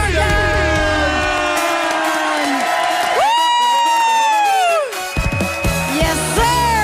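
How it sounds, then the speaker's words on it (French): A lively crowd cheers, whoops and applauds loudly for a grand entrance at a graduation celebration, with sustained shouting that briefly dips before swelling again. "Une grande main d'applaudissements pour le seul et unique Charles David Morgan!"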